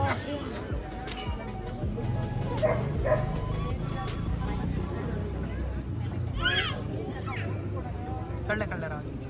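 Mudhol hounds bark and yip at a pet show, with several short barks scattered through a noisy outdoor crowd with chatter and children's voices.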